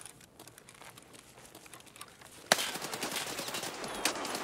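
Gunfire from Escape From Tarkov, a sharp loud burst that cuts in halfway and keeps crackling in a fast broadband rattle after a quieter stretch of faint movement sounds.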